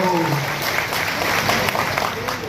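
A crowd at a political rally in Purnia breaks into dense, continuous applause in welcome, loud and close, filling the whole moment without letup.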